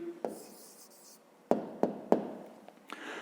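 Pen writing an answer by hand on paper, a few sharp separate taps and short scratchy strokes, close and fairly quiet, with a brief voice at the start.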